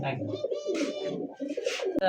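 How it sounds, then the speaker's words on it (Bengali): Two large American fancy pigeons cooing close by, with repeated throaty rolling coos in short bursts and a sharp click near the end. "আল্লাহ, কি সাইজ দেখছেন, দুইটা কবুতর ভাই"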